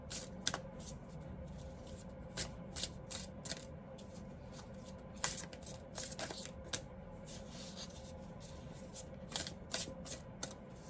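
Tarot cards being shuffled close by, a quiet run of crisp riffling flicks and snaps in irregular bursts over a soft steady background hum, with no talking.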